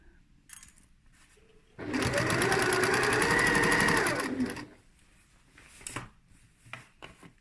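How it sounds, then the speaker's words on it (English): A sewing machine stitches around the edges of a lined tote bag, running in one steady, loud burst for a couple of seconds before stopping, with quieter handling noises before and after. "Back stitch when you start and keep it going all the way around."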